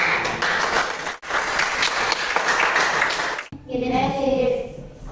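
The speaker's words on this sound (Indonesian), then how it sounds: "Berikan tepuk tangan untuk ikut semua." A classroom claps during a biology lesson, giving dense, sustained applause that cuts off abruptly. A teacher's voice follows.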